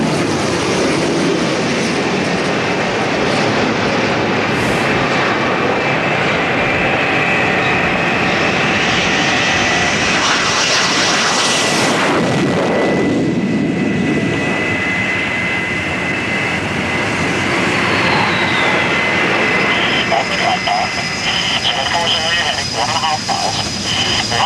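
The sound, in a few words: jet aircraft approaching aircraft carrier deck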